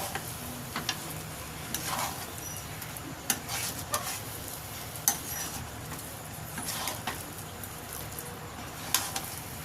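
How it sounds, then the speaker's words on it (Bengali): A spoon stirring chopped coriander leaves into potato curry in a pan, soft sizzling under a series of light scraping knocks against the pan, close and fairly quiet, no talk. "ভালো করে ধনে পাতাটা মিশিয়ে নেব।"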